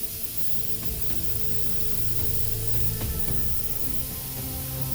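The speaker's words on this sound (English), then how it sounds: "And then the barrel of my Gatling gun here, I'm going to airbrush with some Tamiya flat black." An airbrush sprays Tamiya flat black paint onto a model Gatling gun barrel, giving a continuous close hiss that holds steady for the whole stretch, with a few faint clicks underneath and no talk.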